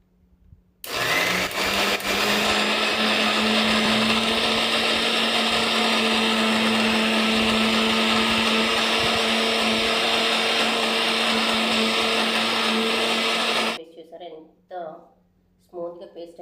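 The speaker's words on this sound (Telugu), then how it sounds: "అల్లం యాడ్ చేసి మిక్సీ పట్టేస్తాను." A kitchen mixer grinder whirs steadily at full power for about thirteen seconds, blending onion paste with added ginger, then cuts off abruptly. Brief speech follows in the quiet afterward.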